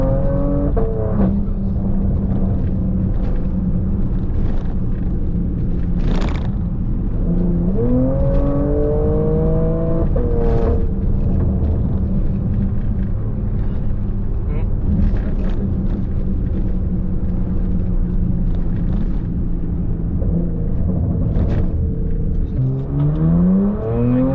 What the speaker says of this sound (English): Like when you press, like look, I'm gonna press the throttle. Oh yeah, that's so much faster.